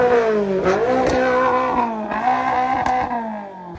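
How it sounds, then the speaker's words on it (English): Toyota GR86 drift car engine revving, heard from inside the car, a loud close harmonic engine drone rising and falling through several blips before easing off near the end, with no talk. "Rev it up once from inside here so we can hear."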